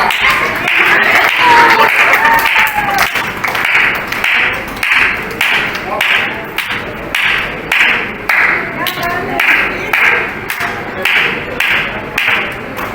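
Loud hand claps ring out in a steady, rhythmic pattern of sharp strokes, about one per second, at a Mohalla Committee Movement Trust Ekta Din community event, close and prominent with no talk over them.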